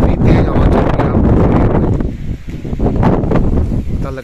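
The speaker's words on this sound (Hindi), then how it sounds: "और कितनी तेज हवा चल रही है" Strong wind gusts across an open home rooftop under dark storm clouds, a loud, steady roar of buffeting against the microphone that continues unbroken throughout.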